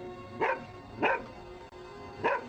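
A dog barks three times in a horror movie scene, single sharp barks spaced about half a second to a second apart, fairly close and clear over a quiet background.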